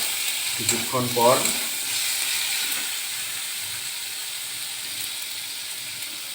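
Fish head and mung dal sauté in a pan, a steady soft sizzle and fry that runs throughout, with a short spoken phrase near the start.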